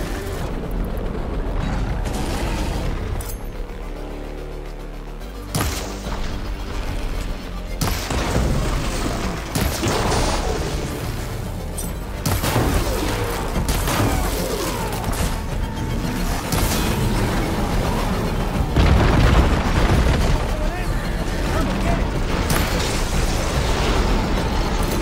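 Combat against a Thunderjaw with acid ammo in Horizon Forbidden West, a dense run of bursts, booms and mechanical clanks, loud and continuous throughout with repeated impacts and pops.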